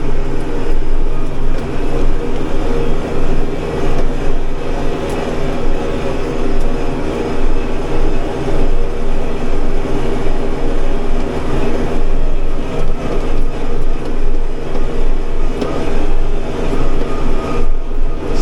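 A fertilizer spreader runs steadily through a field, a loud, continuous mechanical drone and rumble with no pauses or talking.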